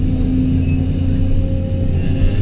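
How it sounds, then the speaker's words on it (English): A truck hauling wet brush rumbles steadily while unloading, a loud low engine drone with constant mechanical hum and no pauses. "He's driving the truck, unloading it."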